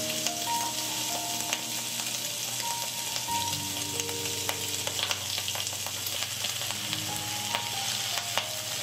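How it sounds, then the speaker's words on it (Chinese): Pork belly and dried tofu fry until crisp in a pan, giving a loud, continuous sizzle and crackle with occasional scraping and small clinks, with no voices. "煎到像这样表面有些恰恰的感觉"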